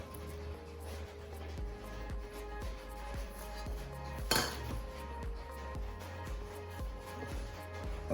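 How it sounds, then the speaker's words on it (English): Mixed vegetables tumble into a bowl of potato salad with eggs, giving a steady clatter of dish and utensil clinks close by, and one sharper scrape or knock partway through. "I'm gonna go ahead and add our mixed vegetables"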